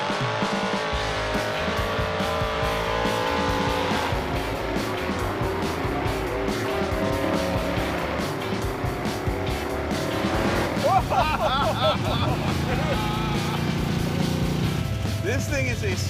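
An AMC Gremlin with a 426 Hemi V8 pulls away, its engine roaring loudly and changing pitch as it accelerates, with a brief squeal partway through and people talking over it.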